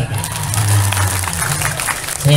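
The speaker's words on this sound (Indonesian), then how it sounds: "Tepuk tangan untuk mereka" Audience clapping at a humorous Islamic preaching session, loud and close, with a low hum throughout, some crowd noise mixed in and a brief louder burst at the end.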